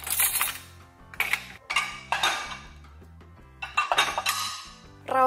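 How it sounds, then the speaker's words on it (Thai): Bowls and dishes being loaded into a dishwasher rack, several close ceramic clinks and clatters in bursts separated by brief pauses, no talking. "พับลงไปแบบนี้ชามต่างๆก็ใส่ได้"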